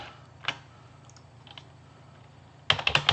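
Keys clatter on a computer keyboard in a quiet room, a few isolated presses followed by a quick burst of several clicks near the end, with no talking.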